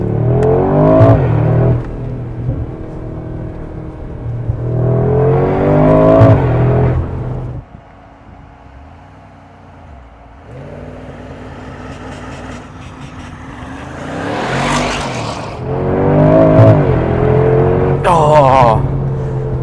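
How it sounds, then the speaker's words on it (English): A 2025 Mercedes G63 AMG V8 G-Wagon in Sport Plus revs and accelerates hard in several loud, rising surges with gear changes, close and aggressive, with a quieter lull between bursts. "Oh, that's an aggressive acceleration."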